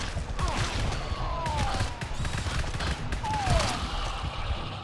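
Burst machine-gun sentries fire in the video game GTFO as dense, overlapping volleys of rapid shots. A few whistling streaks and impacts mix into the chaotic barrage, and no one speaks over the gunfire.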